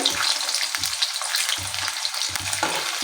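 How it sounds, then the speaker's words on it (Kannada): Paneer pieces fry in a pan for matar paneer, a steady close sizzle with bursts of low stirring and scraping as the pieces are moved, no voices. "ಎರಡು ಕಡೆಗೆ ಗೋಲ್ಡನ್ ಕಲರ್ ಬರೋ ತನಕ ಒಂಚೂರು ಲೈಟಾಗಿ ಫ್ರೈ ಮಾಡ್ಕೊಳ್ಳಿ"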